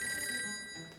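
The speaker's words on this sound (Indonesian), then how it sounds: "Gus, ada telepon, Gus." A telephone bell rings steadily in an indoor home setting, a bright electronic ring sustained for about a second with no talk over it.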